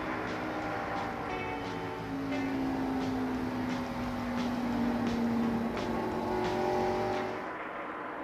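NASCAR stock cars race at Darlington Raceway in the 1990 TranSouth 500. A steady, dense engine roar carries a long, slowly shifting drone, loud and continuous with no voices.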